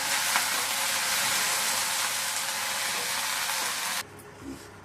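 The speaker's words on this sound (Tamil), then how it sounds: "இப்போ இது கொஞ்சம் நேரம் வதங்கணும்." Mint leaves sauté in a pan for a mint and coriander chutney, a loud, even hiss that runs for about four seconds and then stops abruptly, leaving a faint soft bump.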